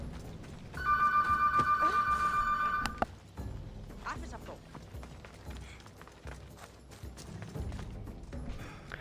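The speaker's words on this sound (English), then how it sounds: "Phone ringing." A telephone rings during Assassin's Creed Odyssey gameplay with a loud, bright electronic trill that lasts about two seconds and then cuts off, leaving quieter game sounds and thumps behind it.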